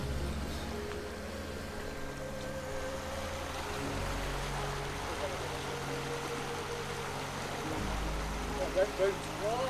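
A river in the Lake District around Hardknott, Eskdale and Wasdale, with water flowing steadily and close by as a constant broadband rush, faint and even throughout.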